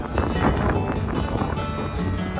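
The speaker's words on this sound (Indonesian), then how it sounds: "Anginnya kenceng banget cuy." Strong wind roars steadily across the open upper deck of a ferry crossing the sea from Bali toward Lombok, buffeting the microphone in a dense, continuous rush.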